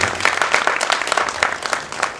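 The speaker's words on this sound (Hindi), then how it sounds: "पूरे सृजन साहित्य मंच के लिए एक बार तालियां, जोरदार तालियां आपकी हो जानी चाहिए।" An audience at a Hindi comedy poetry gathering bursts into brisk, fairly loud clapping that pulses in uneven waves for a couple of seconds.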